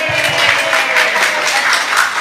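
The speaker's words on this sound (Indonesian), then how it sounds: "Tepuk tangan lu dong" An audience claps together during a religious talk, a dense continuous patter that holds steady and fairly loud throughout, with a faint voice mixed in near the start.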